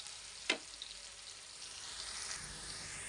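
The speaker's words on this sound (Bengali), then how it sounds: "বেশ কিছুক্ষণ পেঁয়াজগুলোকে ভেজে নেব।" Chopped onions frying in oil for birista give a faint, even sizzle that holds steady throughout, broken once early by a short clink from the pan.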